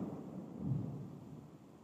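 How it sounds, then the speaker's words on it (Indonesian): A low, distant rumble of thunder swells briefly and then fades, heard alone with no talk. "tadi dengar petir"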